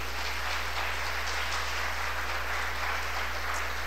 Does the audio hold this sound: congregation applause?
yes